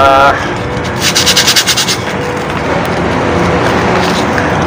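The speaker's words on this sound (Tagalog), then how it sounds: "lihain lang natin ng konti" Brake pads from a Toyota Rush are sanded by hand, a harsh scraping rub running continuously with a short burst of quicker back-and-forth strokes, loud and close over a steady noisy background.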